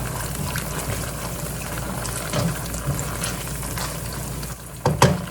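Black bean paste (jjajang) being stir-fried in oil, a steady wet sizzle with soft scraping, ending in a couple of sharper knocks against the pan.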